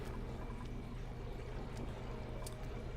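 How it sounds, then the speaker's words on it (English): A water sieve runs in the colony-building game Oxygen Not Included, giving a steady, even pouring and trickling hiss with a low hum beneath and a few faint clicks. "Get this water sieve going."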